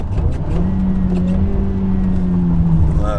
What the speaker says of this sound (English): I can just rev my engine while driving.